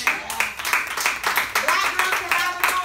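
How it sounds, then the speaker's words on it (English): Hand claps at a lively mixer event, a quick run of sharp claps in a steady rhythm, close and clear, over a background of voices. "that's a hand clap right there"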